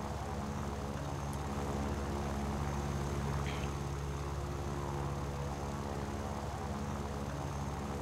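A Yak-9U propeller fighter in the War Thunder video game climbs with a steady, droning piston engine hum that stays constant and close throughout, with no speech.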